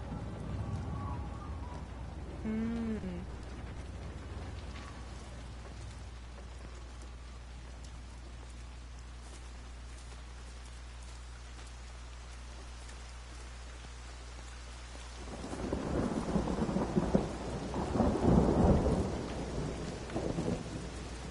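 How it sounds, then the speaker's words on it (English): Steady rain hisses throughout in the video game Everybody's Gone to the Rapture, with a soft chirping call early on, then heavy thunder rumbles and crashes loudly toward the end. "Now it's really raining."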